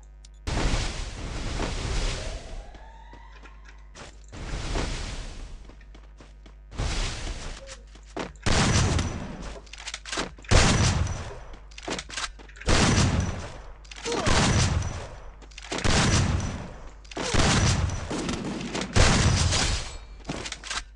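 Shotgun blasts in a PvP video game, about nine heavy booming shots spaced roughly a second or two apart, each with a short decaying tail, loud and close.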